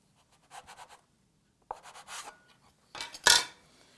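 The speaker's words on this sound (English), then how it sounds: "So I'm going to cut this sheet in half." A knife cuts a sheet of potato ravioli pasta dough in half on a work surface. It makes several short, close, scraping strokes in separate bursts with quiet gaps between them.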